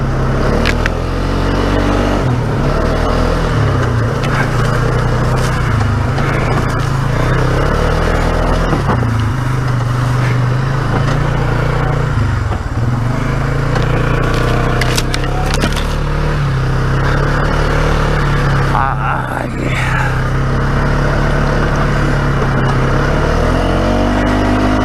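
An ATV rides through a creek, its engine roaring loud and continuous and revving up and down. Splashing and water noise blend in close to the mic the whole time.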